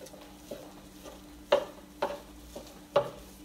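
Ground beef in a skillet for baked ziti, with sharp spatula scrapes and chops landing every half second or so over a soft, low sizzle, close and fairly quiet.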